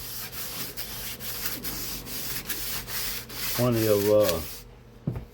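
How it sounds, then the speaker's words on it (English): Sandpaper rubs a balsa wood model airplane fuselage in steady back-and-forth strokes, close and rhythmic, with a brief tonal squeak near the end before it stops. "So just let the sandpaper do the work."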